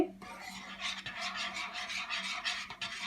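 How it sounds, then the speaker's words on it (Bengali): A utensil scrapes and stirs egg barfi mixture in a thick frying pan on the stove, a continuous rhythmic rasping with repeated strokes, close and steady, no talk. "এরকম অনবরত নাড়তে থাকবেন কারণ ডিম হতে বেশি টাইম নেয় না"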